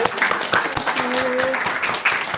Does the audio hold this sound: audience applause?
yes